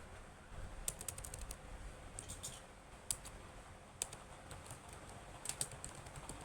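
Computer keyboard typing while entering Python code, a steady run of quiet clicky keystrokes with a few sharper louder taps, no voices, under a low background hum.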